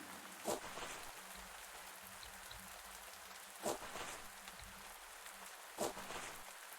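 Soft, steady rain patters in the background, with three louder drips or knocks at regular intervals and no talking.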